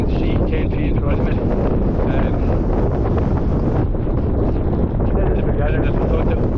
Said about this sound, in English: The wind's getting up, starting to sleet, snow